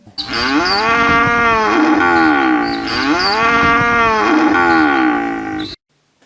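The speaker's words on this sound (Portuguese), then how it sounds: "O mugido da vaca tem um som longo." Two long, loud cow moos, one after another, each a drawn-out low bellow rising and falling in pitch, close to the listener.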